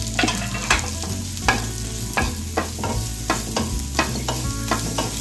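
Chopped onion stir-fried in a hot pan, steady sizzle broken by repeated scraping strokes of a spatula roughly every second, close and clear with no talk.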